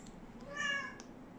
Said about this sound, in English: My cat wants to go outside.